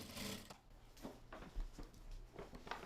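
A home sewing machine recycling old clothes runs in quiet, faint bursts, its needle patter rising and falling in short repeated runs with light clicks and no talking.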